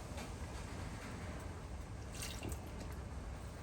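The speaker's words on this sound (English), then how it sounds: "So we'll take these ones out now and rinse them off." Dyed yarn, kept a hot pink shade, rinsed under a running tap, giving a steady close hiss of flowing water with light splashes and drips, no voices.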